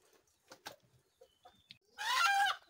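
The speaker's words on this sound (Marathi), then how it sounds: "आता हा बघा, हा लाल कलरचा कोंबडा आणलाय" A red rooster clucks in a village yard, with a few short scattered clucks and small noises before one louder, sustained squawking call near the end.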